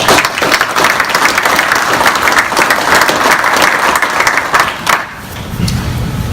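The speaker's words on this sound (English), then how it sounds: "I think that deserves a round of applause" Loud, sustained applause from a crowd at a retirement ceremony, dense clapping filling a room for about five seconds before dropping to a low murmur of the gathering.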